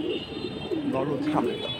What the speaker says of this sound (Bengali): এখানে খুব সুন্দর সুন্দর কবুতর।